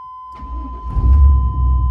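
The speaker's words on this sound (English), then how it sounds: "Let's start with a nice little cold start." An OBS crew cab truck fitted with turbo mufflers makes a cold start: a steady electronic tone, then the engine catches and settles into a loud, deep, close rumble.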